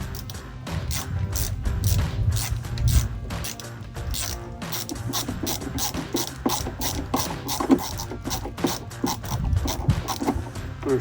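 A part of a cold air intake on a GMC Sierra 1500 pickup is screwed in by hand, giving rapid clicking ratchet-like turns and small metallic knocks close by, in quick irregular bursts with no speech.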